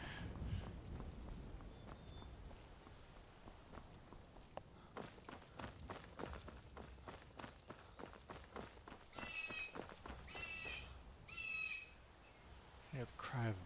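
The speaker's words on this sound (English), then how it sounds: "Hear the cry of a bird." A bird cries out in the wilderness of the modded video game Skyrim Special Edition, with harsh crow-like calls over ambient outdoor sound and footsteps, and a faint voice now and then.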